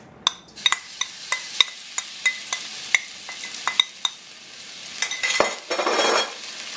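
Shrimp dropped into hot vegetable oil in a pot for a Caribbean bitter melon stir-fry, sharp metallic clinks of a utensil stirring against the pot over a faint sizzle, ending in a louder hissing burst.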